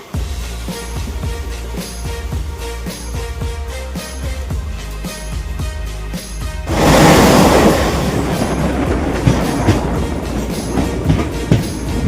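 A train pulls out of a station at night, wheels clicking rhythmically over rail joints, then a loud rushing roar surges in midway and continues with steady clickety-clack, close and without talk.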